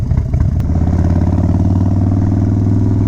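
A Harley Dyna motorcycle fitted with a Screaming Eagle 110ci stage 5 kit idles loud and close, its deep lumpy V-twin rumble steady and uninterrupted after a brief rougher start.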